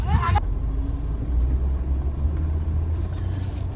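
A car engine idles and rumbles on a narrow, congested road by a fishing harbour market in Konkan, producing a steady low drone with faint traffic noise around it.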